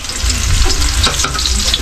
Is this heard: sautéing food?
yes